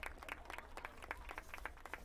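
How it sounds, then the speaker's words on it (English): Very big crowd applauding a player walking onto the field at a Saturday afternoon high school football game, Northport vs West Islip, a faint distant patter of scattered clapping, steady and low. "he walks out in the field and again gets a good reception from a very big crowd here on Saturday afternoon"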